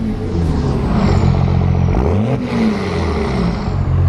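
A loud, close 5.9 Cummins diesel truck engine revs up and drops back with a rough, clattering roar, the pitch climbing and falling once midway.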